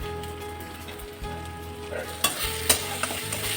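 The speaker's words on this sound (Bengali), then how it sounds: "আমি একসঙ্গে এখন পুরো মশলাটা কষিয়ে নেব" Spice masala with Kashmiri red chili powder stir-fried in a pan for a potato and cauliflower curry, a steady close sizzle with a few sharp scraping stirs toward the end.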